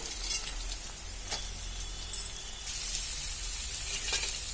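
Carrot pieces sizzle and fry with already browned onion pieces in a pan, a steady loud hiss that swells brighter partway through as the new pieces hit the hot oil, with faint stirring clinks.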